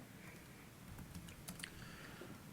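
Computer keyboard typing at a commission meeting, a quiet, distant run of irregular key clicks over a steady room hum with no one speaking.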